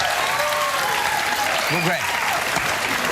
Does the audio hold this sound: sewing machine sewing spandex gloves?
no